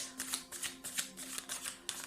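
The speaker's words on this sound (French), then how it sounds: "On va demander à Gaïa si elle a une carte conseil là" Oracle cards are shuffled by hand in quick repeated riffling bursts, about eight soft papery swishes over two seconds, close and quiet with a faint steady hum underneath.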